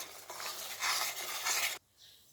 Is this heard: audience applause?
no